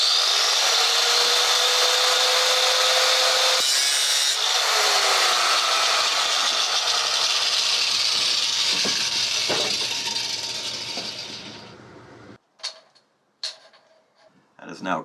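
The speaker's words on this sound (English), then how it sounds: "I'm going to take the cutting wheel, and I'm just going to cut it real quickly right there" Cutting wheel grinding through a marine diesel fuel system part clamped to a table, a loud continuous high-pitched abrasive whine that winds down and stops, followed by a few short clicks and knocks.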